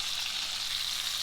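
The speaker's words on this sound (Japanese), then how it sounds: "このようにアロゼしながら全面を焼いていくと、見てもらったら分かるようにきっちりと色がついていきます。" Bone-in pork searing in a pan while being basted with its fat, a loud, steady, close sizzle and crackle with no voices.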